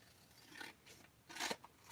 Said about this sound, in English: I'm going to grab a pair of scissors